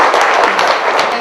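Audience applause after a lecture at a future-management forum in a hall, steady dense clapping from a large crowd, loud and sustained throughout the short moment.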